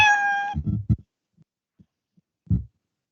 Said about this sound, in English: cats don't make moo, they make meow